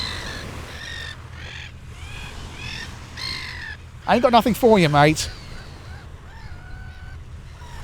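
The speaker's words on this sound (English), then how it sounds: "I'm being bothered by seagulls." Seagulls call near the water, a few scattered cries and then a loud close burst of harsh squawking, while someone talks briefly over the background.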